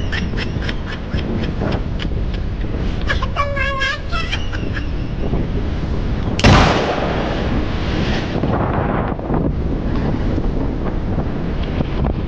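Strong wind buffets the microphone on a small boat at sea while fishing for kingfish with a Poco Rig, roaring continuously with a loud gust burst midway and faint clicks early on.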